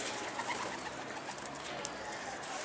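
A pigeon coos amid a steady hiss of outdoor background noise, with a few faint high chirps scattered through.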